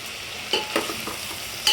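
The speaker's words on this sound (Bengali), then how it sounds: "সবজিগুলো ভালোভাবে যাতে ভাজা হয় সেই জন্য একটু ঢাকা দিয়ে দিলাম" Vegetables frying in a pan for khichuri, with a steady close sizzle broken by a few soft stirring scrapes.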